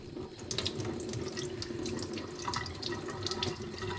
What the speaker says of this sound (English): let's get the water rolling so you guys can see her on the water